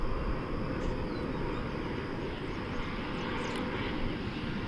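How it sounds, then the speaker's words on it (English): A Boeing 787-9 Dreamliner wide-body jet from Sao Paulo, Brazil, arriving at DFW Airport at daybreak, gives a steady, broad engine roar that holds level throughout at moderate distance, with no voices. "Our first wide body of the day, 7879 Dreamliner from Sao Paulo, Brazil."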